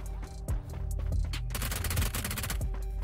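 Crate gun firing in PUBG, a heavy automatic weapon letting off quick bursts of loud, close shots that build into a sustained volley.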